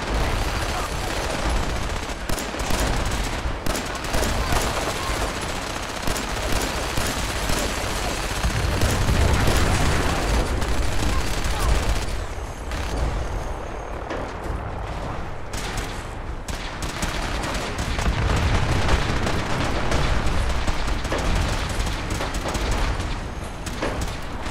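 Sustained gunfire from a Fallout 4 firefight, dense bursts and rapid shots rolling on for the whole stretch with heavy low booms swelling in places, loud and continuous.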